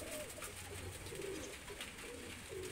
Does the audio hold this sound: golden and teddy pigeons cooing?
yes